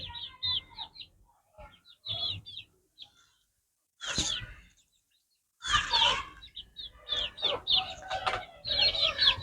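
Bursts of close, loud clucking and squawking from young crossbred chickens eating feed come in irregular clusters separated by brief silences, growing busier toward the end.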